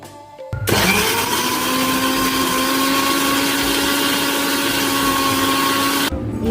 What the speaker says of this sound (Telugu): మిక్సీలోకి తీసుకొని కొంచెం బెల్లం వేసి గ్రైండ్ చేయాలి